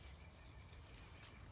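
A cloth rubbing oil into a wooden sculpture on a work table, a steady, soft, continuous friction hiss, very faint and close, with no talk.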